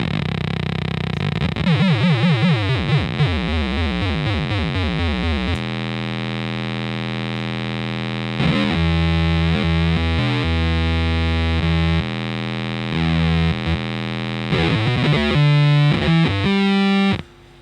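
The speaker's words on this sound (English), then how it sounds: "So right now you're just hearing the subharmonic, and I set it to 1 octave down." A Data Corrupter pedal on electric guitar, running its subharmonic voice one octave down, gives thick, heavily distorted fuzzy tones: a gliding, warbling opening, then sustained chords and riffs that pause briefly around the middle and stop abruptly at the end.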